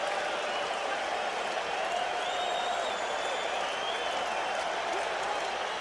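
A baseball stadium crowd at World Series Game 7, Red Sox at Mets, keeps up a sustained roar of cheering and scattered applause, hoping for a strikeout, with a few whistles rising over the steady noise.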